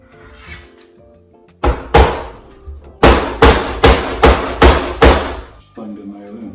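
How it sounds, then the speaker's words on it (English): A hammer drives an ordinary wood nail into wood with eight sharp, loud blows, two spaced strikes followed by six in quick steady rhythm, with brief speech before and after. "bang the nail in, just snip off the head"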